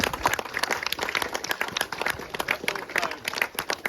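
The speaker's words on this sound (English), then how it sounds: "which I think needs a round of applause for all that" Audience applause for volunteers at a heritage railway grand opening celebration, a steady patter of clapping from a crowd with voices mixed in throughout.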